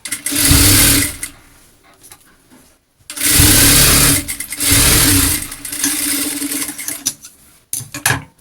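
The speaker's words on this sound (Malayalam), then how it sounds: "മെയിൻ ക്ലോത്തും ലൈനിങ്ങും തമ്മിൽ രണ്ടായിട്ട് പ്രാവശ്യം ഒന്ന് ജോയിൻ ചെയ്ത് കൊടുക്കുന്നുണ്ട്" A sewing machine stitches main cloth and lining together in several loud, close bursts of rapid whirring, separated by short pauses and softer runs.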